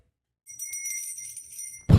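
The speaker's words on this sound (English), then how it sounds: "Was this the not moving to California bell? Yeah, that was the bell they sent me." A small hand bell rings with one steady, bright, sustained chime lasting over a second and stops with an abrupt loud thump.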